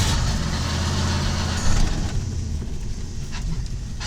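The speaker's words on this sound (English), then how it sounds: "So we're pulling out of our driveway right now." A 1986 Ford F250 barn-find pickup pulls out of a driveway, its engine rumbling low and steady at close range, with a slight surge partway through and no talk.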